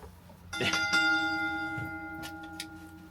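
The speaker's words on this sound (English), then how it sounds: "All right, let me give you the bell." A bright bell strikes twice in quick succession, its clear ringing tone sustaining and slowly fading over a soft background.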